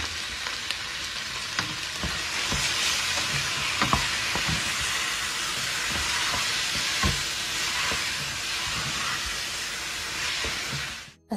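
Minced beef fries in a pan with softened onions and peppers, making a loud, continuous hiss. Irregular spatter crackles and occasional scrapes of stirring run through it, and it cuts off abruptly at the end.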